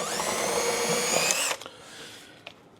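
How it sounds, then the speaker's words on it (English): A power drill with a self-centering VIX bit drills a pilot hole for mounting Salice undermount drawer slides, a loud high whine for about a second and a half that stops abruptly, followed by faint handling clicks. "I'm going to use that handy dandy VIX bit. All right, self-centering drill bit, and I'm going to drill out that hole"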